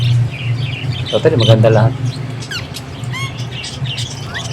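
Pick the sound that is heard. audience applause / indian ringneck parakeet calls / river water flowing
indian ringneck parakeet calls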